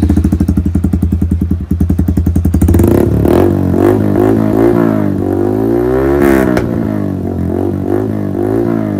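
A Yamaha R15 V4 motorcycle fitted with an aftermarket M4 full exhaust, idling with a fast loud thumping pulse before revving up hard in several rising and falling surges, close and very loud.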